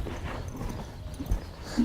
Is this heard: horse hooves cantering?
yes